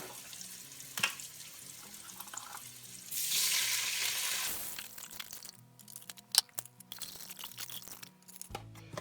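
Broth poured into a pot of cooked-down onions for homemade potato vegetable soup, a rushing pour of liquid lasting about a second and a half, followed by sizzling, stirring and clinks, close and without talk.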